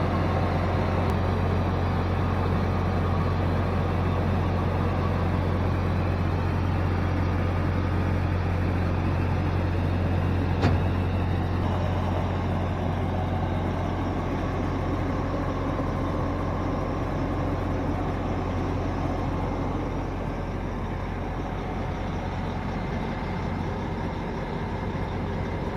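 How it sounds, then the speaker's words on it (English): A motorhome generator runs steadily with the engine off, a constant low droning hum with an even mechanical rumble, unchanging and close throughout, no voices. "So I turned the engine off while I'm running the generator."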